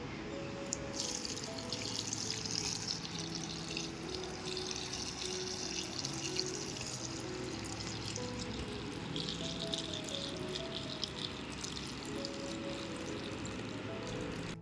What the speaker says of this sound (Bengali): এবার এটাকে কিন্তু ভালোভাবে জল দিয়ে ধুয়ে নিতে হবে